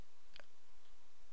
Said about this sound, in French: appuyer sur la touche ici A du pavé du clavier